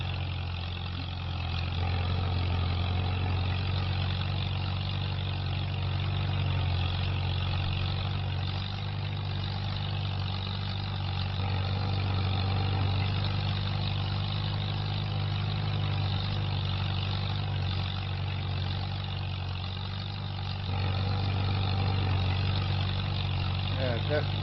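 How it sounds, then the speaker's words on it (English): A tractor in Farming Simulator 25, set on a 1949 farm during hay work, running with a steady, droning engine hum throughout while a person talks over it. "We've got this tractor on the job."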